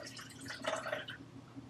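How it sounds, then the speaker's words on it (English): Water poured in for a blueberry peanut butter smoothie, a short splashing, trickling fill heard up close with no talk, swelling in the middle and then easing off. "So first, we're going to add our water."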